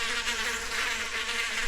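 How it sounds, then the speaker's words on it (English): Bees buzzing from a phone soundboard app, a steady dense insect drone held at even loudness throughout, with no voices over it. "Those are bees."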